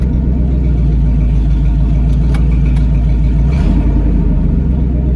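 A rusty Ford F-250 that sat for years runs on open headers with a loud, close, throbbing exhaust rumble at a steady idle, a brief rise in revs near the end and a few clanks in the background.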